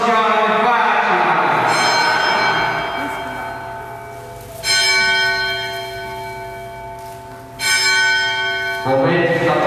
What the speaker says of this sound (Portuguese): Momento que está tocando o sino.